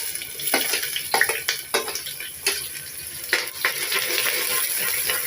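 Bay leaves, black pepper, cloves, cumin and chopped onion sizzle in hot oil while being stirred, giving a steady close frying hiss broken by several sharp clinks and scrapes of a spoon against the pan for chana dal kabuli.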